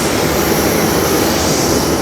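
Airplane engines drone loudly and steadily on an airport tarmac during boarding, a continuous broadband roar with a high whine, close by and without talking.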